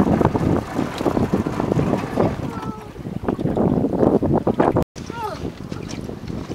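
Strong gusty wind buffets the microphone on a fishing boat out on the water, a constant rough roar with a brief cutout, while voices talk over it.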